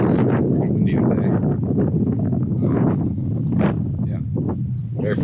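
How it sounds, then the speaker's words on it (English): Gusty wind buffets the microphone in loud, continuous rumbling bursts, with faint background sounds mixed in. "As you can see, it's pretty windy today."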